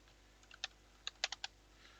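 Keystrokes on a computer keyboard while entering a name into game-making software: a handful of sharp, close clicks, a few spaced singly and a quick cluster of three near the end, over a quiet room.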